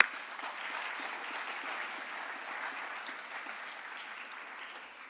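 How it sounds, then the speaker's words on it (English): Audience at an honors awards and induction ceremony applauds steadily for about five seconds, a dense, even wash of clapping that fades slightly toward the end, heard from a moderate distance with no talking. "So let's give your support system a round of applause."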